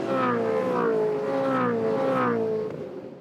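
A Supercars race car at Hidden Valley Raceway howls past with a loud, rising and falling engine note over several seconds, then fades slightly at the end.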